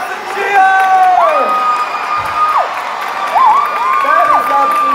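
A crowd at a Christmas lights switch-on in Warrington cheers and whoops right after a countdown, a sustained loud wash of voices with children's high shouts rising and falling.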